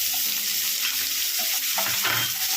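Onion, dried red chili and asafoetida frying in hot oil give a dense, close sizzle, with soft stirring scrapes and a few brief pops throughout the short stretch.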